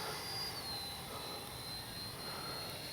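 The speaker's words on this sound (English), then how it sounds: "What a fun little jet." A small E-flite 64mm Viper electric ducted-fan RC jet flies at a distance, giving a faint, steady high whine with a slowly shifting pitch over soft wind-like hiss.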